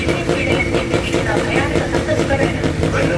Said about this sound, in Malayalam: ട്രെയിൻ എങ്ങനെ പ്ലാറ്റ്ഫോമിലേക്ക് മന്ദം മന്ദം അടുത്ത് വന്നുകൊണ്ടിരിക്കുകയാണ്